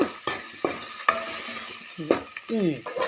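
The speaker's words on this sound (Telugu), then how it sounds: "వేగిన తర్వాత పచ్చడిని అందులో వేసేయండి" Drumstick-leaf chutney is stirred into hot frying oil, making a close, crackling sizzle with a few scraping stirs and clinks in quick succession over a few seconds, with no talk.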